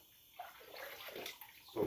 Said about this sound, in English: rinse them in the cold water